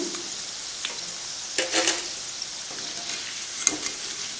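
Chickpea pakoda crackling in hot oil, a soft continuous sizzle with brief louder bursts as pieces are stirred, close by and fairly quiet, without speech.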